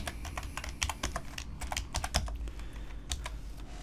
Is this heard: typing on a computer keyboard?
yes